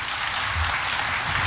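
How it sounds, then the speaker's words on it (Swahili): An audience at a Kenyan cooperatives event claps for a government minister, a dense, continuous burst of applause filling the short clip. "wape makofi ya waziri mwenye mamlaka kuu, Mheshimiwa Daktari Wycliffe Musalia Mudavad"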